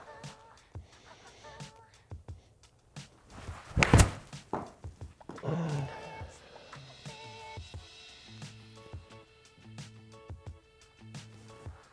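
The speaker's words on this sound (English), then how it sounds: "Now my first club I'm going to hit is my 60 degree." A golf ball struck with a 60 degree wedge on an indoor simulator setup, a single sharp close thunk of club on ball, followed by quieter thuds and faint background beeps, no talk.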